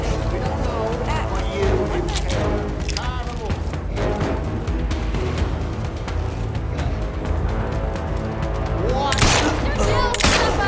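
Gunfire in the video game Atomfall, repeated shots and bursts over a constant bed of game noise and music, with a voice talking over it and a loud burst of firing near the end.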